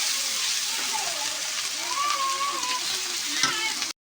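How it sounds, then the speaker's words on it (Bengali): Onion with ginger and garlic paste and cumin paste frying in a pan for a silver carp dopiaza, a continuous close sizzle with light stirring while a person talks. "আদা রসুন আর পেঁয়াজ দিয়ে এটা ভালো করে নেড়ে নেব"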